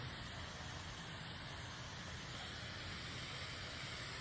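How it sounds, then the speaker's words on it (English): A hand pump sprayer mists Roundup weed killer onto lawn weeds, a steady close hiss running unbroken with no voices. "make sure you spray the whole leaf blade"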